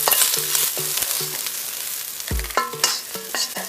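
Garlic, ginger and peppercorns sizzle steadily in hot oil in a wok, with repeated scraping stirs from a spatula and a few sharp metallic clinks against the pan.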